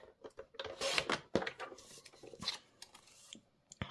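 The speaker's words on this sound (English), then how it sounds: "And I'm going to cut it at about 1 inch." Paper cardstock snipped with scissors for a handmade card, a short run of close, crisp cuts and rustles with small gaps between strokes.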